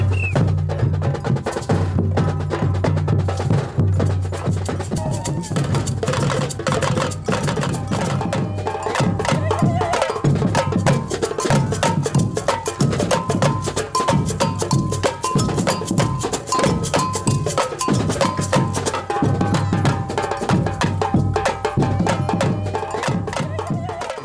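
A samba percussion group plays a dense, driving rhythm led by a bright cowbell over pounding drums, loud and continuous throughout.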